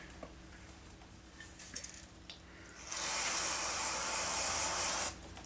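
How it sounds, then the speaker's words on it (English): A steady hiss of contact cleaner sprayed from an aerosol can onto a rag during a Sony SL-HFT7 repair, one continuous burst of about two seconds, close and clear over quiet room noise. "So I'm just going to get a rag, use contact cleaner"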